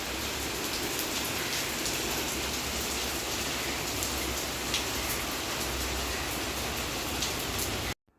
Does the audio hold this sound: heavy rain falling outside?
yes